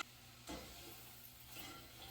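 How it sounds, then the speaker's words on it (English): Berries cook down in a pan as their released juice boils, a faint steady sizzle and bubbling hiss with a few soft stirring swishes, no voices. "There's a lot of liquid, a lot of water that's being released, and it's boiling."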